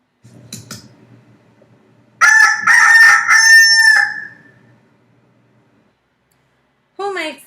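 A rooster crows once, a loud, clear, drawn-out cock-a-doodle-doo in the middle, after faint clucking and soft rustling, with a brief further call at the end.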